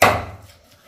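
A single knife chop through raw plantain on a board, cut into slices for frying, lands as a close, sharp woody thud that decays quickly into quiet.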